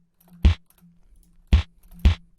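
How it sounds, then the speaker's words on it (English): Layered kick drum built from an impact sample, with a low, plucky sub body: three punchy thumps with sharp attacks, one, then a pause, then two closer together, over a faint low hum. "I'll just play the final kick for you"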